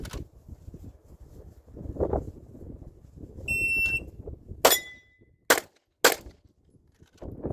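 Pistol shots from a Glock ring out at steel targets, three sharp loud cracks in quick succession followed by further shots, set against quiet range noise after a timer beep.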